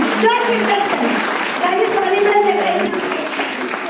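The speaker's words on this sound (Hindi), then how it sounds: "एक बार रविता शेट्टी जी के लिए, भाई जी के लिए जोरदार तालियां बजा देना" Crowd applause at an Indian network marketing celebration event, a steady wash of clapping running the full length under a voice or music.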